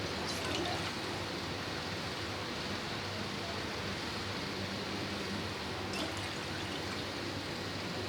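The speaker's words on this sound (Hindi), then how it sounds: "बर्तन में हम 2 कप पानी डालेंगे।" Two cups of water pour into a cooking pot to start sugar syrup for gulab jamun, a faint, steady splashing stream that runs without a break throughout.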